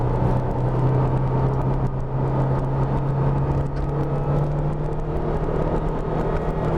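A Jaguar F-Pace engine drones steadily on a circuit at Inje, a strong low hum holding near one pitch under a broad whir of road and wind noise for about seven seconds.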